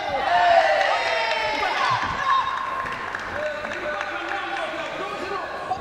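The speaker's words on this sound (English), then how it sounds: "The Mongolian contingent cheering their man for some good work on the inside" Boxing arena crowd at the World Boxing Cup Finals in Sheffield, with a Mongolian contingent cheering and shouting for their fighter, a steady roar of voices filling the hall under a commentator's talk.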